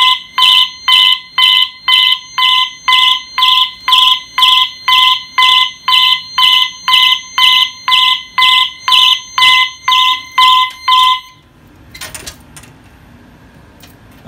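Fire alarm system test with a 2151 detector activated sets off a loud, near electronic alarm that sounds in an even pulsing pattern of about twenty beeps, then cuts out and leaves quiet room noise.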